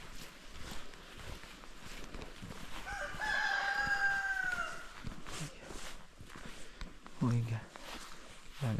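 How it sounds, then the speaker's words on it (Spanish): Rooster crowing outdoors on Madeira, Portugal, one clear drawn-out crow at moderate distance mid-clip, with scattered clucks, footsteps and people talking nearby. "Los gallos."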